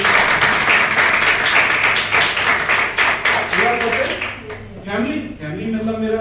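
An audience at a lifestyle marketing business event breaks into loud, dense clapping that fades toward the end as a voice comes in over it.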